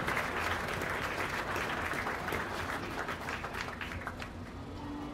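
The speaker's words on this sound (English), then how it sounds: "let's give these kids a big round of applause as they exit the ring" Audience at a county fair beef show applauds steadily for youth exhibitors leaving the show ring, a continuous, moderately distant wash of clapping from a sizable crowd that fades slightly toward the end.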